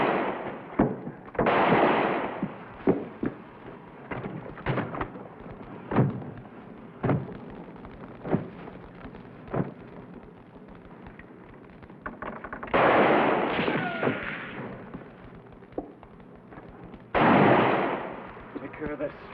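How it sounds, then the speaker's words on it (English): Gunfire aimed at a wagon in a 1950s frontier Western scene: a long run of sharp, echoing shots fired at an irregular pace, with dense bursts and clustered volleys near the start and again later, and no talk. "Just fire toward the wagon when I go."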